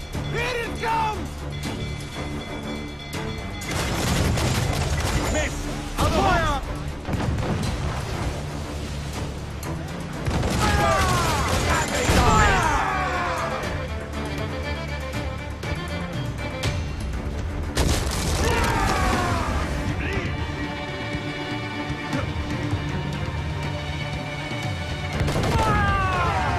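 Ship cannons firing from a schooner in Assassin's Creed IV, several loud booming blasts with crashing impacts spread across a naval battle, amid shouted crew orders and ongoing combat noise.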